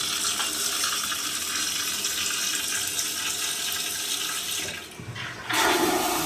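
Unusual toilet in an Ahwatukee home flushing, a loud continuous rush of water that fades toward the end, then a burst of refilling water.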